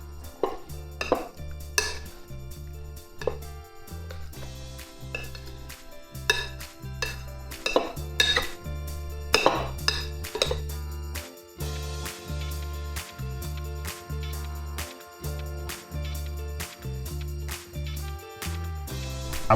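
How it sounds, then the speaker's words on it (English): A spoon or utensil stirs potato salad in a bowl, knocking and scraping against it in an irregular rhythm of close, sharp clacks over a low steady hum, no talk. "Now I'm gonna stir all this together"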